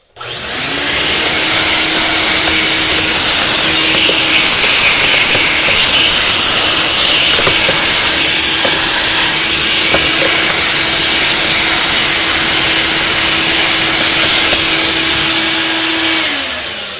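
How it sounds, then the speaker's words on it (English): A loud vacuum cleaner sucks up residue inside a 2015 Volkswagen Jetta air filter housing, running steadily and close by, a continuous roaring hiss with a droning motor tone that holds for most of the stretch before winding down. "I think I might get the vacuum and suck that up"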